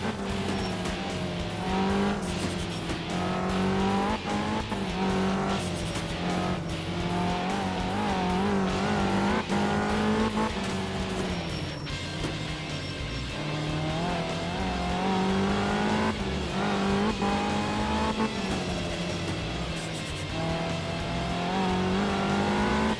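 A heavy van races at speed on a dry German rally stage in Art of Rally, with a steady, loud engine drone that rises and falls through gear changes and cornering, and intermittent tire squeal, continuous throughout.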